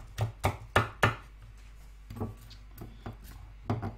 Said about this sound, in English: So yeah, so we have awesome chopped up onions.